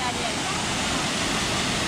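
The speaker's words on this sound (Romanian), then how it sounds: "așa arată de aici cascada și bineînțeles apa asta albastru turcoaz" The waterfall at Cheile Nerei gorge gives a constant, broadband rush of falling water, loud and unbroken.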